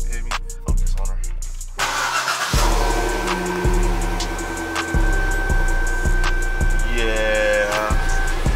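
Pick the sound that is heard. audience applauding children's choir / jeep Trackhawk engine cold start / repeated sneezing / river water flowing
jeep Trackhawk engine cold start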